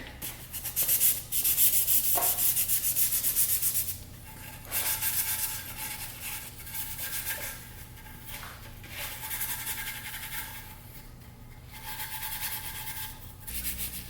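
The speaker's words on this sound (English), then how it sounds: "The Scotch-Brite pad will usually scuff a little bit more junk out, and then the towel will help wipe and clean all of it out." A Scotch-Brite pad scuffs a metal oil pan in continuous rough rubbing and scraping strokes, moderately loud and close, with brief pauses between passes.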